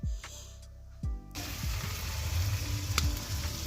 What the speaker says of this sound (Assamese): এতিয়া ভাজি আছে